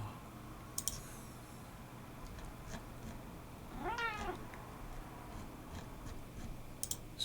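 A cat gives a single clear meow midway through a quiet indoor stretch, with a few faint clicks and ticks before and after.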